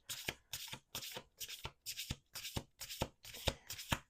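A deck of tarot cards being shuffled in nine quick riffling bursts at a steady rhythm, each ending in a sharp snap, close and clear with no talking.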